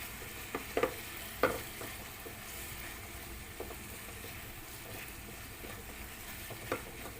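Beef mince stirred in a pan with tomato and Indian spices for aloo keema. A quiet, steady frying hiss carries a few scattered spoon knocks and scrapes, and the whole thing stays fairly faint.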